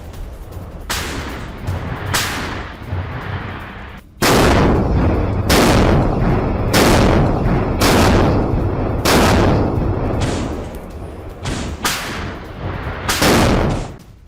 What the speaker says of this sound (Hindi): यूक्रेनी मोर्चों पर गोलीबारी की गई है